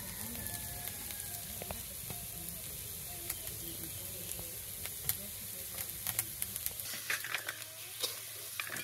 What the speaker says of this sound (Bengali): আমার গাজর ভাজা হয়ে গেছে নামিয়ে নিই